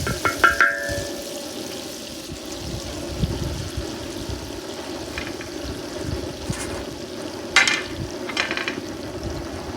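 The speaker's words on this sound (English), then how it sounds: "we're gonna go ahead and drop the steak in" Sirloin steak dropped into a hot discada, setting off a loud, continuous close-up sizzle, with a few clanks at the start and a brief knock later.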